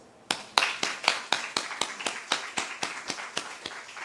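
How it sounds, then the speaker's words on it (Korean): A congregation claps during a Sunday afternoon church service, giving about fifteen sharp, evenly spaced claps in a steady rhythm that fade gradually, heard close and alone without talk. "박수"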